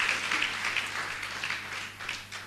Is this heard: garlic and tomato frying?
no